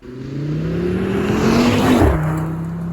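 An Audi RS3 hot hatch drives on the road, its engine note holding a steady loud drone that climbs gently in pitch and then drops as the revs fall, with no talking.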